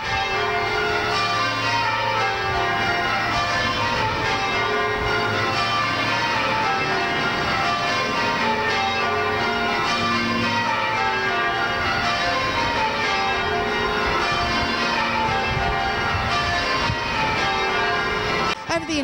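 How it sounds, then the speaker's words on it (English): Tower bells of St Paul's Anglican Church in Latrobe Terrace ring changes in full flight, a dense, continuous cascade of overlapping bell tones that holds loud and steady throughout. "the bells of St Paul's Anglican Church in Latrobe Terrace performed a Tower Bells concert with the Tower Bell Ringers in full flight"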